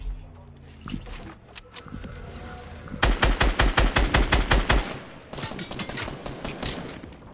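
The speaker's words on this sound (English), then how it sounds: "I hear gunshots." Bursts of rapid gunfire, a fast string of sharp shots followed by scattered farther volleys, with game-like sounds between.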